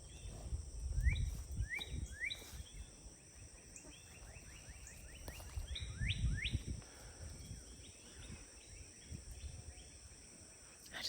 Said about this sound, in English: I just love the birds.